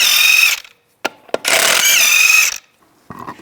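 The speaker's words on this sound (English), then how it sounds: "Use a 19mm socket, take the lug nuts off" A socket wrench with a 19mm socket takes the lug nuts off the rear wheel of a 2002-2009 Chevrolet Trailblazer, in two loud, close, whirring mechanical bursts separated by short sharp clicks.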